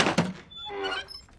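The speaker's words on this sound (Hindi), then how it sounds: "चल अंदर, दरवाजा बंद कर रहा है।" A door is pushed shut with a single solid, close thunk, followed by a brief fading ring of the frame.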